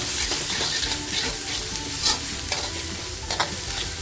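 Chopped tomatoes are sautéed in hot oil for a small-prawn masala. A loud, continuous sizzle runs throughout, broken by repeated stirring scrapes of a spoon against the pan.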